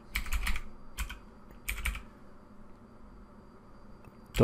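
Bursts of typing on a computer keyboard, quick clusters of keystrokes with short pauses between them, close and clear, ending in a single louder clack.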